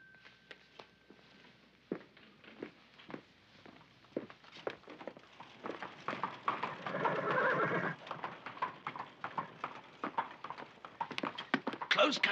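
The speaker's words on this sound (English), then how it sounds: "closed carriage, Holmes. One man at the reins, the other must be at the door" A horse-drawn closed carriage rolls past in 1976 New York, with steady clip-clopping hooves, a rising rumble of wheels and a horse's whinny, and people speak over it.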